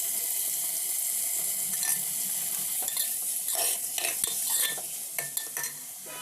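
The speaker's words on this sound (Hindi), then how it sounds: "दूसरे साइड मेरी ये सब्ज़ी भी भुन गई है" Vegetable sabzi sizzles steadily as it fries in a pan, with repeated scraping and clinking of a spoon stirring it, loudest toward the middle of the stretch.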